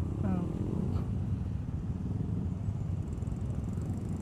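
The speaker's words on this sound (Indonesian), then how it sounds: "Rame banget nih, mungkin ada 80 motor ini." Many Honda Supra motorcycles idle together at a Sunday morning group ride, a dense, continuous low engine rumble close by, with faint voices mixed in.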